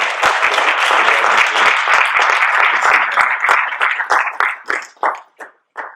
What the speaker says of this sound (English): just give them a round of applause for their work